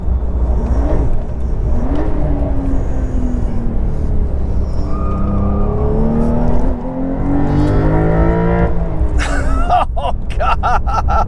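A 2023 Porsche 911 Carrera T engine while driving, loud and close, rising and falling through several revving gear pulls with a brief dip, ending in choppy bursts.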